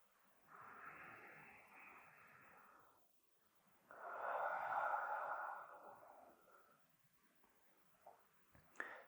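Slow, soft breaths during a guided meditation, a long exhale followed by a fuller, louder breath, quiet and close with a small click near the end.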